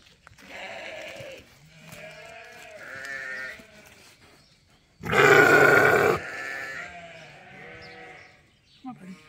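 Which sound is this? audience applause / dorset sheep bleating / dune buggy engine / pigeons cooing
dorset sheep bleating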